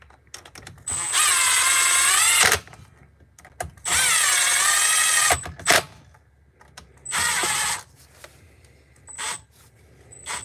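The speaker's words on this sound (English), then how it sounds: "always got to be careful with power tools" A power tool whirs in several bursts, rising in pitch as it spins up, with short pauses and clicks between runs.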